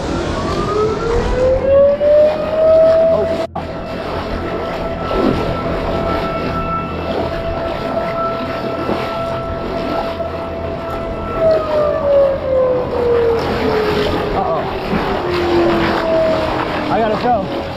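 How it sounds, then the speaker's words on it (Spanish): A loud wailing siren rises, holds a long steady tone, then falls and rises again over engine rumble and background noise. "su jornada de pesca se vio interrumpida por un ruido ensordecedor,"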